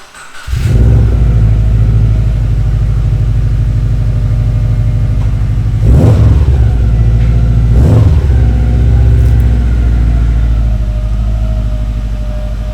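A car with coilover suspension starts from cold and settles into a loud, steady idle, with two quick revs swelling partway through over the continuous close engine rumble.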